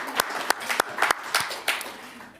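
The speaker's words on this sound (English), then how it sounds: "Let's give him a clap." A small audience at a circular economy symposium gives a brief round of applause, a handful of distinct, sparse claps in an uneven rhythm.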